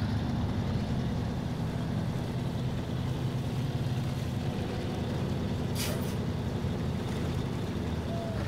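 A heavy truck engine drones low and steady in low gear in the SnowRunner video game, churning along a wet Michigan track, with a brief hiss near the end and no voices.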